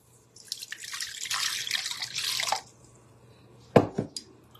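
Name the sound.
warm water running from a tap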